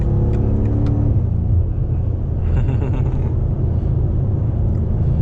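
A BMW M8 Gran Coupe accelerates hard through traffic, with a deep, loud engine rumble that climbs in pitch and then settles into a steady droning roar heard from inside the car.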